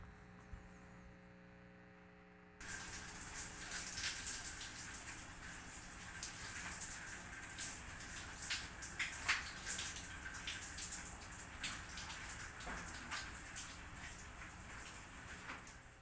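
Shower water runs in a continuous hiss after a quiet hum at the start, steady and close with no voices.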